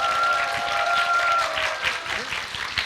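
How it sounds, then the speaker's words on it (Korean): A studio audience breaks into dense, continuous applause at a Korean film talk show. The clapping stays steady and fairly close for a few seconds, and a voice can be heard speaking under it. "여러분 박수 부탁드립니다."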